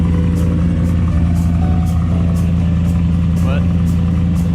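A Mazda RX7 engine idles loudly with one muffler removed, a steady close rumbling drone with a few brief clattering ticks over it, and no voices.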